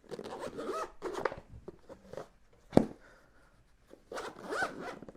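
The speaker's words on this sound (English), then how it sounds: "The zipper, you see, are not exposed" A zipper on a GoPro HERO10 Black Creator Edition camera case is pulled in several short, quick zips, fairly close and clear, with faint rustling of handling between strokes.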